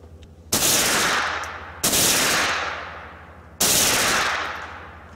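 Three loud .22 rifle shots ring out outdoors at a homemade exploding target, each sharp crack followed by a long decaying echo across the range.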